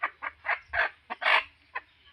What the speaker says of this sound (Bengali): তো এটাও কিন্তু ডিম পাড়া মুরগি